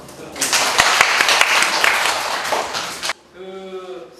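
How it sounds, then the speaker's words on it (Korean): An audience of students at a university industrial security department outreach session bursts into loud, dense clapping for about three seconds, then it cuts off and a voice begins speaking. "박수"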